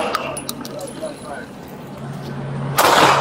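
A suspect opens fire on LAPD officers. A few sharp, fairly distant cracks sound early on, and a loud rush of noise and commotion follows at the end.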